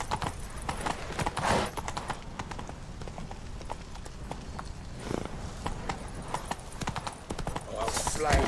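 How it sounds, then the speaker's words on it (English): Galloping horse hooves in the Witcher 3 video game drum in a fast, steady clip-clop under shouted voices and combat noise, moderately close. "Grab a horse to the temple!"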